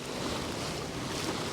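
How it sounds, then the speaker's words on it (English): Ocean waves and wind on a sailboat crossing the Kattegat from Sweden in a light 10-knot breeze on almost flat water, a broad steady wash of water and air with no voices. "So fantastic to be out on the ocean."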